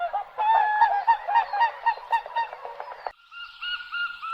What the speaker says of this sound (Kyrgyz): аккуу.